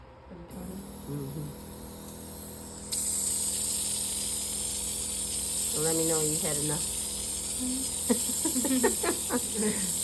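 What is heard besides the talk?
spray bottle misting toner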